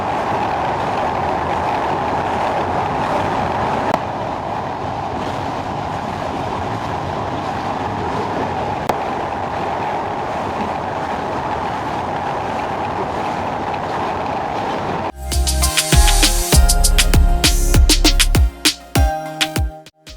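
The Jahanabad Express, a luxury train on the Khulna–Dhaka route, rolls along with a steady, loud rumble for about fifteen seconds. It then shifts to a harsher, louder rattling and clattering that stops near the end.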